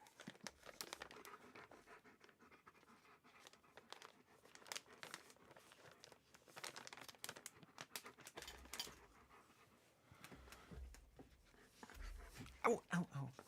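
A dog breathes loudly in quick, raspy pants close by, mixed with crinkling and scratching noises, while people talk over it.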